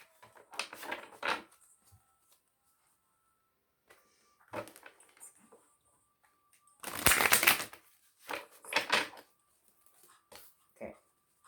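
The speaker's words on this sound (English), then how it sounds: "Give these cards a really good shuffle." Tarot cards being shuffled by hand in several bursts of riffling and slapping, close and fairly loud, with quiet pauses between them and no talking.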